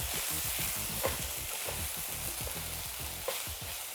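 Leftover beans and scraps sizzle steadily in a frying pan for a keto frittata, with a few sharp clinks of a utensil stirring through them and a continuous hiss underneath a low musical backing.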